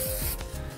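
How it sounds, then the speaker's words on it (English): A short, steady hiss of hair texture spray being sprayed up close onto hair roots, lasting under a second. "I'm just going to spray it directly into the root area."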